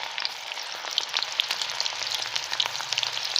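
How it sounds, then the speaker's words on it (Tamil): Marinated pieces deep frying in hot oil, a close, steady crackling sizzle with dense popping bubbles and no voices. "இப்போ இதுக்கு நான் ஆல்ரெடி எண்ணெய் சுட வச்சு வச்சுருக்கேன். அதில் அப்படியே இதை ஒன்று ஒன்றா இப்படி பிரித்து விட்டா மாதிரி போட்டுக்கிறேன்"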